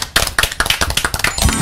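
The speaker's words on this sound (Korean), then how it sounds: "자 그럼 박수로 한번 청해봅니다" A small audience claps in sharp, uneven bursts to welcome a singer onstage, the claps loud and close, and a brief tonal note enters near the end.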